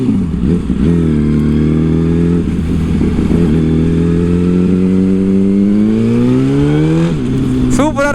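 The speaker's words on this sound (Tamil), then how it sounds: "சூப்பராக இருக்கு R1 வண்டி." A 2008 Yamaha R1 sport bike's inline engine revs loud and close, rising and falling through repeated throttle blips with a steady high-pitched drone, briefly interrupted near the end.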